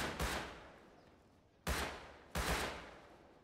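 Three separate gunshots ring out in the survival video game Rust, each a sharp close crack with a fading tail, the second and third spaced closer together.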